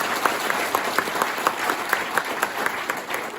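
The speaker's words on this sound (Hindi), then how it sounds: "उनके लिए एक बार जोरदार तालियां चाहूंगा।" Audience applause fills the hall at a motivational training event, steady dense clapping with sharp individual claps standing out, sustained evenly throughout without voices.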